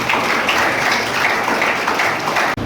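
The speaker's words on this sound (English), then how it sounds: "Please clap for our award chairman." A school audience at a literature conclave applauds an award chairman, a full, steady burst of many hands clapping that stays loud and continuous before stopping abruptly near the end.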